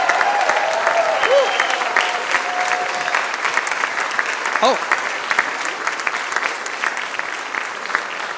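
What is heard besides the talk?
audience applause for the conductor John Sutton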